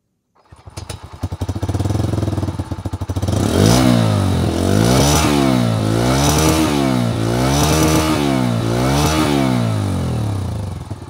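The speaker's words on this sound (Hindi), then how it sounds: "आपको इसका एग्जॉस्ट नोट सुनाता हूँ" A Bajaj Freedom 125 CNG motorcycle engine starts and idles, then revs up and down repeatedly in a steady rhythm, loud and close, with a throaty exhaust note.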